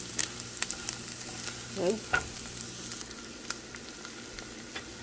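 Chorizo chilaquiles frying in a pan and being stirred, a low steady sizzle with scraping stir strokes and a short voice asking a question partway through.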